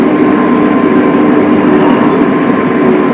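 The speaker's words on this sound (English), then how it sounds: "Got a little bit of a noise from the engine hydraulics, but not near what the Hagee is." Hay swather working in a field, its engine and hydraulics running as a loud, steady low drone with a constant whine layered on top, heard from inside the cab.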